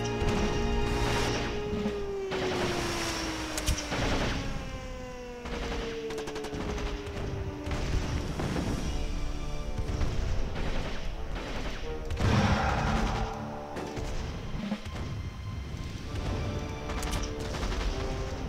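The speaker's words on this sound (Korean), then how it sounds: "해군 함포 사격이요?" Naval gun bombardment in the strategy game Rise of Nations, a long run of booming blasts and rattling rapid fire with crashing impacts, loud and dense, over a descending whistling tone and game music.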